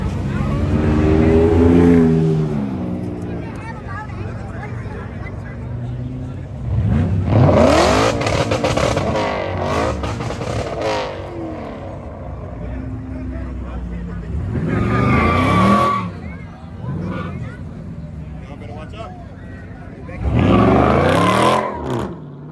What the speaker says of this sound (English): BMW M5 is coming back.